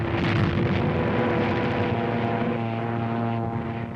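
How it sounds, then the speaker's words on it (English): Nazi Stuka dive bomber near the front lines in North Africa, a loud, steady propeller-engine drone with a sustained tonal hum that holds through the whole stretch without a break. "There's a Nazi dive bomber letting one go."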